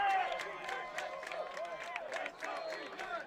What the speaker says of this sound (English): Uganda definitely cheering for the English now.